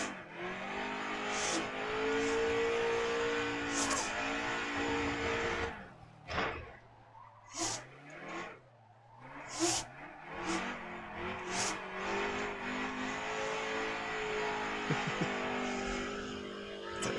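Car engine revving hard and sliding through drifts in a racing video game, a loud continuous whine that drops away briefly midway before surging back up.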